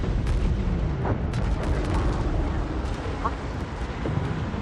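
A frigate is destroyed during a space battle in Homeworld 3, with heavy rumbling booms and scattered sharp blasts rolling through a dense, noisy battle soundscape, alongside faint background voice chatter.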